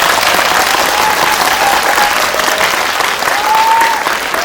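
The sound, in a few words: applause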